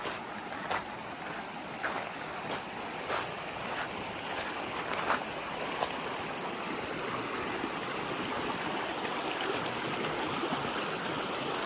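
Creek water runs over small rocks along a hiking trail, a steady broad rush with occasional louder splashes and trickles, fairly close and continuous, with no talking.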